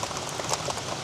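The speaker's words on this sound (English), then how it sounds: "Cold rain, boy." Cold rain falling steadily outdoors beside a New Holland 7220 discbine, a dense, even hiss of drops hitting surfaces, loud and close without a break.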